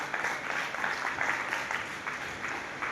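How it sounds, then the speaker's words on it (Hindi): Steady applause from an audience at a comedy show held at a women's college, a dense wash of clapping filling about three seconds at moderate level, swelling slightly in places and continuing throughout. "तालियां तो बजा दीजिए"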